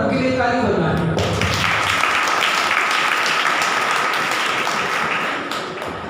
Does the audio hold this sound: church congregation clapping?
yes